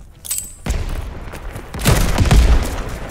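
Rifle gunfire from an AK in the Call of Duty Vanguard video game, a rough burst of shots and booms in a loud, dense battle mix.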